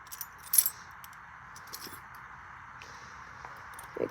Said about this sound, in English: Why can't I stop dropping the keys?